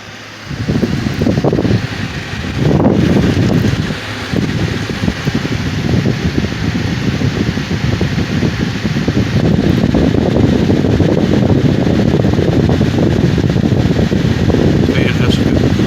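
A Midea portable air conditioner set to high cool blows with a steady, loud whooshing fan noise after a brief quiet start, continuing unbroken throughout.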